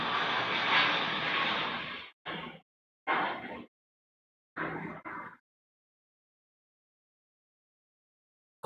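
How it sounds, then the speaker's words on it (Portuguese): An airplane flies overhead as a broad, steady roar that breaks off into several short bursts before falling silent, with no talking over it. "Olha o avião."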